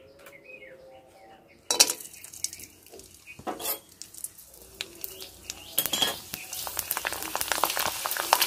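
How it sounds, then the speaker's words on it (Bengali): Potato chips fry in hot oil in a wok, with a loud, crackling sizzle that swells after a quiet start. Metal utensil clinks and scrapes sound close by, and no one speaks. "এবার আমি চিপসগুলো ভেজে নেব।"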